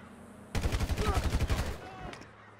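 Rapid automatic gunfire from Merryweather soldiers in GTA Online crackles in a dense burst of about a second and a half, then fades into quieter background.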